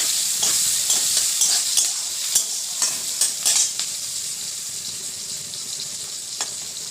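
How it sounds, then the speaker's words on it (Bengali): Nigella seeds, green chillies and onion fry in oil in a pan, giving a bright continuous sizzle with intermittent spatula knocks and stirring scrapes early on, then settling into steady hiss. "কালো জিরে দিয়ে দিলাম এবার দেব কাঁচা লঙ্কা আর দেবো পেঁয়াজ"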